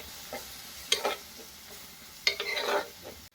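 Curry leaves and spiced mackerel masala sautéing in a pan, heard close up as a quiet sizzle broken by two short bursts of scraping stirring, with no speech.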